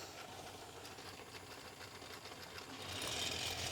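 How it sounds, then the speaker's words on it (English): A small Hornby model train engine runs around its track on its own with a fast, steady mechanical whir and rattle close by, growing slightly louder toward the end, with no talk. "That is working reasonably well, the engine on its own."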